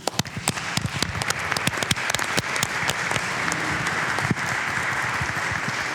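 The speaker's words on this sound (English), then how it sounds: "To both of you, a round of applause for them, please." Meeting audience applauding presenters at a conference session on the transition to circular economies in the Americas: a sustained round of many hands clapping, crisp sharp claps at first settling into an even, continuous wash of applause.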